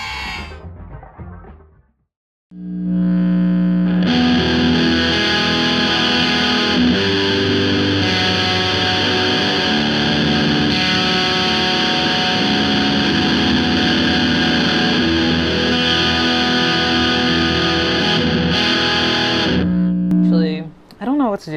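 A Squier baritone Telecaster played through a Frost Giant Mountain fuzz and a Mr. Black Deluxe Plus reverb, giving a long, loud, sustained distorted chord wash with heavy reverb, after a brief spoken intro and ending in talk.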